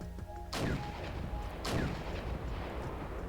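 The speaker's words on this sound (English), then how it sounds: "immediately start pounding with artillery at this the farmhouse over here" Artillery shells pound a farmhouse in the WARGAMES video game, with two heavy explosive impacts about a second apart, each a sharp crack trailing into a rumbling, crackling decay.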